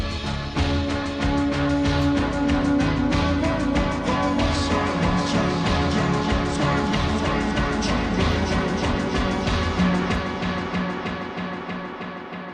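Dense, continuous music through a delay effect with increasing feedback, repeating echoes that build and smear together, the trailing repeats growing thicker over time before fading slightly at the end.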